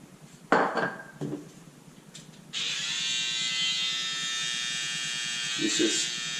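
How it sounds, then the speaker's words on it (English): An electric hair trimmer outlining a hairline in a home self-haircut switches on partway through and buzzes steadily and close, with a few faint taps and clicks before it starts. "to make my line, I'm gonna come in with my trimmer."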